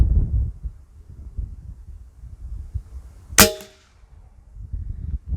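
Hatsan 125 air rifle fired at bottle caps at 30 metres: one sharp, loud crack cutting through quiet outdoor rumble, ringing briefly before fading.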